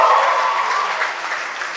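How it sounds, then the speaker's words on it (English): Guests at a wedding reception applaud, a dense, steady wash of clapping that stays loud throughout with no voices standing out. "Give it up another round of applause, everyone."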